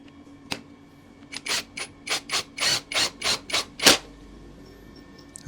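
An APR AP127+ impact wrench drives into plywood with about nine short, loud rattling hammer bursts in quick succession, close by, after a brief click.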